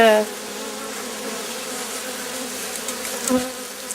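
Honey bees buzz steadily around an opened hive during a spring brood inspection, a dense continuous drone close by with a faint voice briefly near the end.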